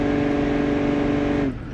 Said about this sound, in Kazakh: Мотор жұмыс жасап тұр достар.